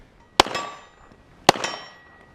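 Two sharp metallic clangs about a second apart, each with a short ringing tail, as pistol rounds from a Canik TP9SFX strike a small palm-sized steel shooting target at an outdoor range, with no talk.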